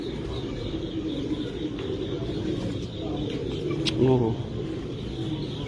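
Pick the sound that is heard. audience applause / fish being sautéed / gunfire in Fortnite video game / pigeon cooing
pigeon cooing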